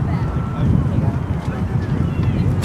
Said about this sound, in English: Windy day there.